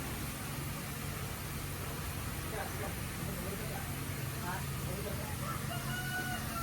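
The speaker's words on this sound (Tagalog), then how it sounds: "Mga manok ko dito, grabe ang dami na naming manok." Chickens clucking and a rooster crowing faintly in the distance over a steady background hiss, with some indistinct voices.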